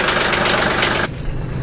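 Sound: tractor engine running

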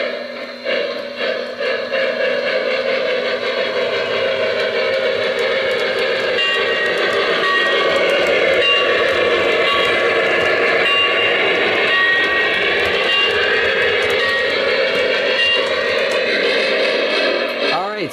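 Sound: Lionel Strasburg #89 model train engine running through switch

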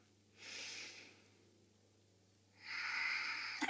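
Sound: inhaling breath during yoga

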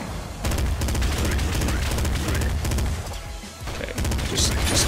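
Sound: machine gun gunfire in the video game Nuclear Throne

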